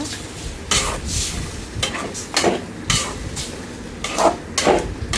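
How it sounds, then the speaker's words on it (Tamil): Washed chicken stirred into masala in a pan, a series of loud, close scraping strokes over a sizzling bed, roughly one stir every half second to second. "இப்போ நான் வந்து சிக்கன் எடுத்து கழுவி வச்சுருக்கிறேன் அதை வந்து நம்ம போட்டுக்கலாம் போட்டுட்டு எல்லாத்தையும் நல்லா மிக்ஸ் பண்ணி விட்டுக்கோங்க"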